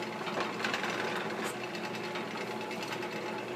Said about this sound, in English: So turn on the lathe